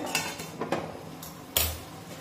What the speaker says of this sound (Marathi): कढईवरचं झाकण काढूया